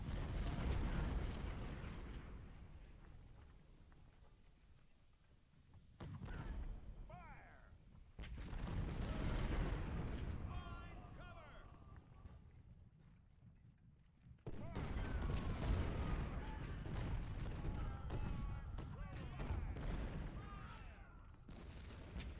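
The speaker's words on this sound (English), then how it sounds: "we're going to spend a lot of it just firing cannons" Cannon volleys in the Civil War strategy game Ultimate General: Civil War, at Hardin Pike, come as loud sustained booming barrages in several long waves, with brief quieter gaps between them and no speech.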